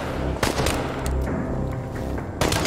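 Rapid bursts of gunfire in the video game Chernobylite, a dense near volley of repeated shots with a short lull before another close burst at the end.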